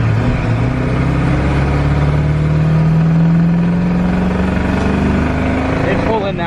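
A Chevy truck on a test drive pulls hard, its engine and exhaust droning loud and close as the pitch climbs steadily through the gear before easing off near the end.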